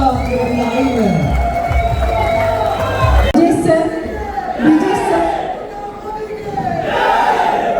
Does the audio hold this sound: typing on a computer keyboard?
no